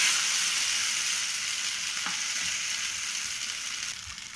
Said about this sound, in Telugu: దీంట్లోనే ఫ్రై చేసుకోవాలి.